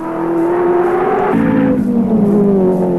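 A race car engine at the 1983 Bathurst 1000, Mount Panorama, runs loud and close on a sustained high drone whose pitch steps down partway through, then carries on steadily.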